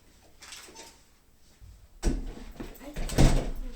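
A door bangs shut with a sudden thud partway through, followed by rattling and movement nearby; faint voices murmur in the background.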